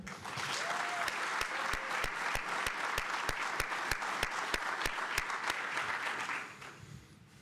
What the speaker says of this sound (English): How about a round of applause for our cadre?